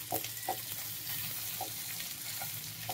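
Chicken cooking in a pan, a steady sizzle and frying hiss close by with a few soft clinks as it is stirred, no talk.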